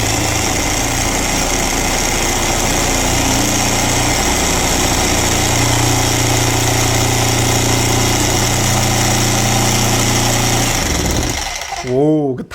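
A DCK KZG03-15 electric jackhammer runs with no load, giving a loud, steady, rattling drone for about eleven seconds before it cuts off and winds down.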